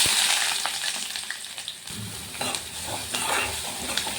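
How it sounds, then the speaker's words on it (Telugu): Onions frying in a pan for a prawn curry, a steady close sizzle with stirring scrapes and clatters of the utensil against the pan throughout, no voices. "ఆనియన్స్ గోల్డెన్ బ్రౌన్ కలర్ రావాలి అప్పటి వరకు ఫ్రై చేసుకోండి"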